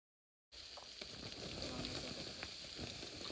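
Water thrown onto burning wood under a clay roof tile used for cooking Konkani chicken outdoors sets off a sudden, loud, steady sizzle and hiss that continues with small crackles.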